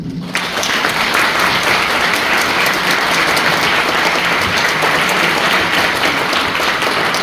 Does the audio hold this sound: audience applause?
yes